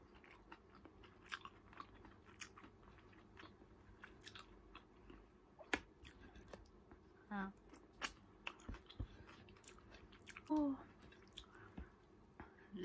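Someone chews salmon belly and skin up close, with soft, wet bites and smacks scattered through a quiet room and occasional brief vocal sounds.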